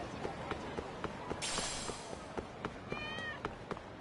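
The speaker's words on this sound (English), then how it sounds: "Oh, I can go and befriend some random cats." A cat meows in the video game Lost Judgment, a short high cry and a later wavering call standing out over a soft backdrop of regular footsteps.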